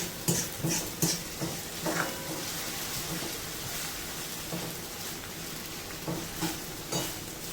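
Asafoetida and onion sautéing in a pan, a continuous crackling sizzle broken by repeated sharp stirring scrapes and taps against the pan, close and moderately loud.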